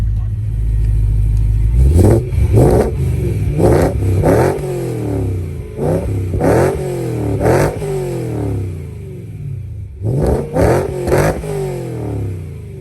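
A naturally aspirated V8 in a BMW E92 M3 with a catless exhaust is revved repeatedly from idle, each blip rising sharply and falling back, loud and close, with a short pause before a final cluster of revs.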